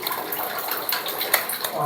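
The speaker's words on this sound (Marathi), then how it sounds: "बारीक पाणी येते नळातून" A thin stream of water runs steadily from a bathroom tap under repair, a soft continuous trickle with faint splashy flickers throughout.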